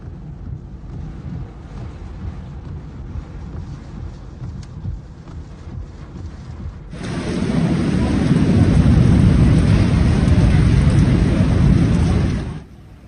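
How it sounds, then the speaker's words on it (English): Quiet rumbling rain in a Makkah storm at first, then a sudden surge into loud, heavy torrential downpour roaring steadily through the street before cutting off abruptly. "rain accompanied by wind and lightning, torrential water pouring down the street"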